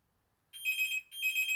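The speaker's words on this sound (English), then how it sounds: "Oh, my phone's ringing." Mobile phone ringtone, two short bursts of bright electronic ringing, moderately close, with no talking.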